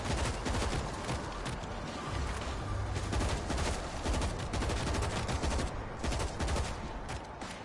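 Dense rapid gunfire from several weapons in the zombie shooter game World War Z, loud and sustained bursts rattling almost continuously over several seconds, with no talking.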